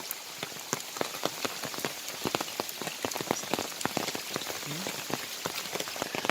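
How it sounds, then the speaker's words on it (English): Monsoon rain falls nonstop in Matheran during the rainy season, a steady, dense patter of drops striking surfaces nearby, continuous and fairly loud with no voices. "It has been raining continuously since yesterday, non-stop rains."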